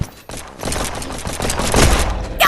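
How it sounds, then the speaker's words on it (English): A grenade explodes in the video game Animal Company. The blast is a loud, rumbling, noisy burst that swells and lasts about two seconds. "You're throwing a grenade."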